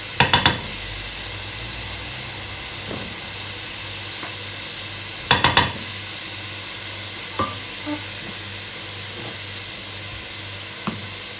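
Spoon stirring spices in a frying pan for vegetable biryani, with sharp metallic scrapes against the pan at the start and midway, then scattered softer taps over a steady low sizzle, no talking.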